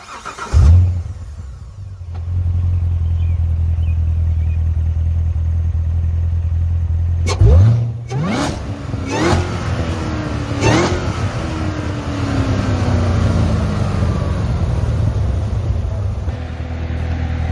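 A supercharged Chevrolet Corvette C7 Z06 engine, heard from outside with the hood closed, starts with a loud burst, settles into a low steady idle, then is blipped through several sharp revs that rise and fall before it returns to idle.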